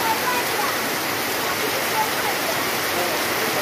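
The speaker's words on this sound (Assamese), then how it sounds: "বতৰ একদম বহুত বেয়া বৰষুণ দি কৰি অৱস্থা নাইকিয়া হৈ আছে" Heavy rain pours outdoors as a steady, dense, loud hiss of water that holds without a break from start to end.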